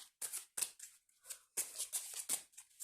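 Cards are drawn and shuffled from an astrology oracle deck, giving soft, close papery swishes and rustles in irregular bursts with brief pauses.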